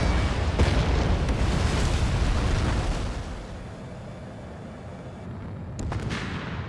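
A missile explosion in the flight combat game Ace Combat 7, fired from an F-15E Strike Eagle, comes as a loud, heavy rumbling roar that fades, then a sharp crack and a renewed rumble near the end.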